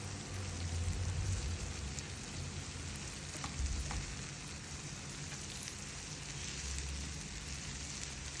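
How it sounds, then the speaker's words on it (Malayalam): Onions and other ingredients frying in a pan for a yogurt curry, giving a steady, soft sizzling crackle that continues evenly throughout with no talking. "മൊരിച്ചുകൊണ്ടിരിക്കുകയാണ് ഇപ്പം സവാളേനെയും ബാക്കിത്തെ ഐറ്റംസും"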